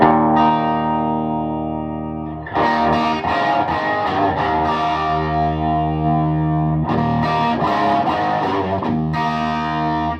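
Electric guitar played through a TopHat Rialto Reverb 1x12 combo amp turned all the way up, loud sustained chords ringing with distorted grit and reverb, a held chord decaying before two further strummed bursts.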